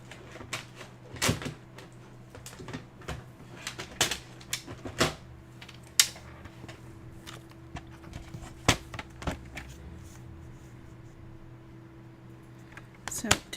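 Paper trimmer being set up for cutting paper: a series of irregular clicks, clacks and knocks of plastic and metal parts being handled, scattered throughout and close by, with a faint steady hum underneath.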